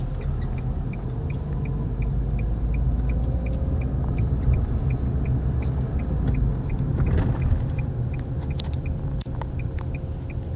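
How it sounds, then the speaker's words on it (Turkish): Manual car pulling away from a half-clutch start on a hill, its engine a steady low rumble that swells slightly as gas is applied, with a faint repeating tick over it and no talk. "Araba titriyor ve gaza basıyoruz."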